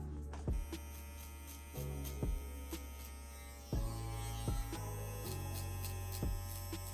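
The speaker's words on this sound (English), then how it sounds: "Just letting the trimmer put a line in." An electric hair trimmer hums steadily at close range while cutting a drop fade line, its buzzing tone shifting slightly with a few brief bumps as the blade moves across the head.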